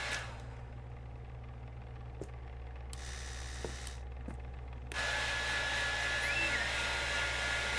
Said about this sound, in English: Professional's tool, the hairdryer.